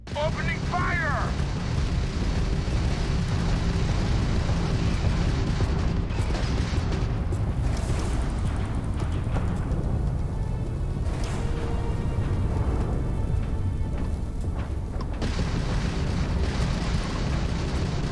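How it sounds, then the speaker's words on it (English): Heavy booming weapon fire from a spaceship battle against pirates in Starfield, a continuous loud rumble of blasts and bursts, with a voice talking over parts of it. "Opening fire!"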